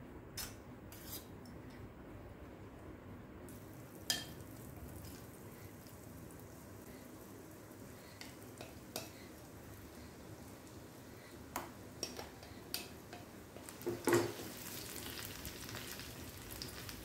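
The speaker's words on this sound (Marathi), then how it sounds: "तुपात याला छान भाजून घ्यायचं. सारखं ढवळत राहायचं, साईडने लागायला नको." Soft, ground soaked dal roasts in ghee in a pan on a gas stove while being stirred constantly, a faint low sizzle with occasional light scrapes and clinks of the spoon, no voices.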